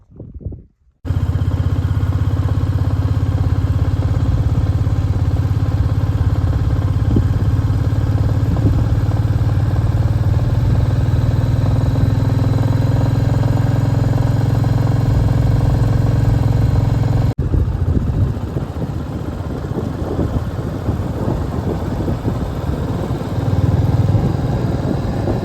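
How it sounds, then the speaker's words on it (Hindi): A motorcycle engine labours loudly and steadily while climbing a high-altitude zigzag mountain road toward Umling La in Ladakh, a continuous close drone with wind rush and a slight change in tone partway through. "चढ़ाई में बाइक को भी और ज़्यादा ज़ोर लग रहा है"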